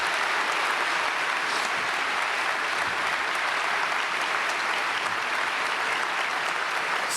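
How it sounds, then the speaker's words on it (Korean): A church congregation at a Sunday praise service applauds to welcome a guest speaker, a continuous, even wash of many hands clapping that fills the space for several seconds with no voices over it. "강사님 박수로 맞이하겠습니다"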